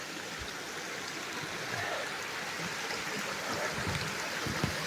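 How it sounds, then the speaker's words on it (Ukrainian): A steady, broad rush of flowing water from a small river in the winter Carpathian Mountains runs continuously at moderate volume with no voices. "чистенька річечка біжить"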